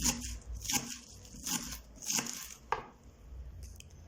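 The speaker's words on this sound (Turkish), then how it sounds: "Şimdi maydanozumuzu da ince ince doğrayalım." A knife chops parsley rapidly on a cutting board, a steady run of crisp close taps repeating about twice per second.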